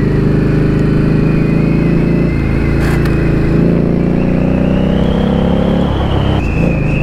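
Indian Scout Bobber Twenty motorcycle ridden on a two-way road at a motorcycle meetup, a loud, steady close-up engine drone that shifts and pulls through gear changes, running continuously with no talk.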